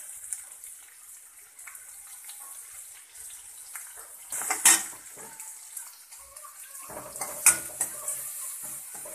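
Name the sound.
mixing onion and curry leaves in pan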